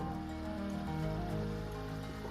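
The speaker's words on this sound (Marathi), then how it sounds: "आणि आता पाऊस पण येतोय" Steady rain falls on the road to Raghuvir Ghat, a constant close patter across the whole stretch with a low, even hum running underneath and no voices.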